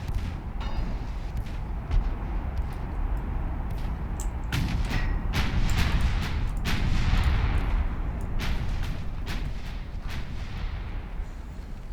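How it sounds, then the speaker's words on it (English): Two-inch naval guns in Ultimate Admiral Dreadnoughts fire in scattered sharp reports over a steady rumbling battle din, some shots close and crisp, others softer and farther off, with no voices. "2-inch guns are just so good at this"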